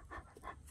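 Several happy pet dogs pant in short, rhythmic breathy bursts close by, with no talking over them.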